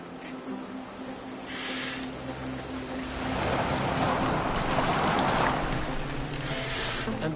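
A boat moving across open water, with a steady wash of waves and wind that swells louder toward the middle, under a low engine-like hum, and no voices.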